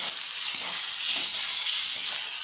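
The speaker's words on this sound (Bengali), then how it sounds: "এখানে টমেটো কুচি দিয়ে দেবো।" Chopped tomato hits hot oil spiced with cumin and ginger-garlic-onion paste for a bhetki fish head curry, giving a steady, close, loud sizzle that hisses evenly with no talking.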